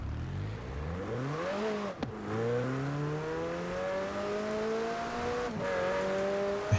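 A car in Forza Horizon 4 revs hard while drifting, its engine note climbing and holding with brief dips at gear shifts, loud and close with a faint tire squeal and no talking.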